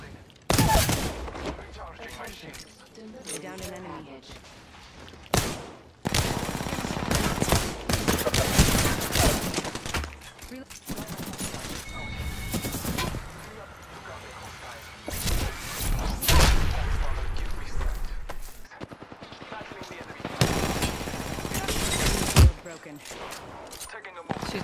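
Bursts of video game gunfire during a shootout, repeated loud volleys and scattered shots in clusters with short gaps, mixed with impacts and a voice speaking between them.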